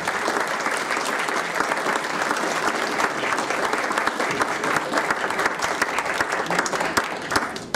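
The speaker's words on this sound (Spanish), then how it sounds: "Un aplauso para él." Sustained, dense applause from an audience at an evening talk event, even and full for several seconds without a break.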